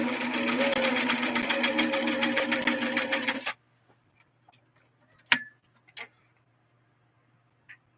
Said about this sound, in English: So here goes a straight stitch